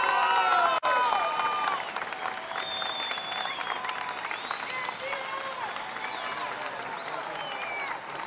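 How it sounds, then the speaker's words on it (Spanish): A crowd gives sustained, loud applause with some cheering for a winning folk dance group at the Pre Cosquín 2020 competition. The clapping is dense and continuous throughout. "Fuerte, fuerte ese aplauso para el conjunto de baile folclórico"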